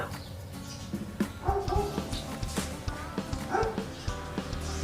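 A dog being wiped down and groomed after a bath gives short yips and soft whimpers, heard up close amid handling noises.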